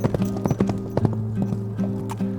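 Horse hooves clip-clop in a quick, uneven rhythm as a close, loud radio-theatre sound effect, with a low tonal hum running underneath.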